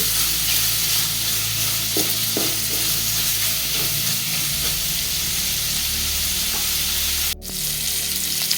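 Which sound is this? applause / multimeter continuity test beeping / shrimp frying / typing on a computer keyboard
shrimp frying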